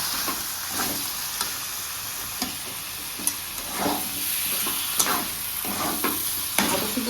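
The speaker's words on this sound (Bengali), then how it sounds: "এবার ধনে পাতা কুচিয়ে দেবো আবার ভালো করে নাড়াচাড়া দেবো" Vegetable curry with soaked bori dumplings and chopped coriander being stirred in a pan, with a steady close sizzle and a series of scraping spoon strokes spaced every second or so.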